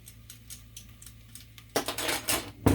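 Metal spoon clinking in a container while handling a strong 1% dye stock solution for dyeing wool locks, a few soft taps and then a louder burst of bright clattering near the end, close up.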